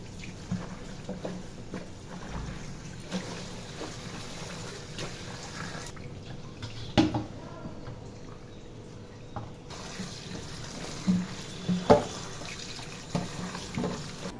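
Water spinach leaves are rinsed by hand in clean water, giving a continuous close splashing and sloshing with occasional sharper clinks and drips.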